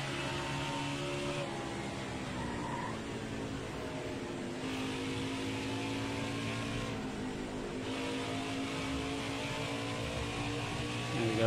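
A race car engine in a racing video game holds a steady high drone at sustained revs while drafting in a slipstream, with slight pitch shifts and a continuous mid-level hum and no voice.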